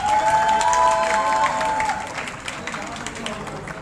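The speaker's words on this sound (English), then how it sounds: "Round of applause for Engineer Pankaj." Audience applause at a university convocation ceremony, a sustained wash of many hands clapping in a large hall, steady and fairly loud, with a faint sustained tone over it early on.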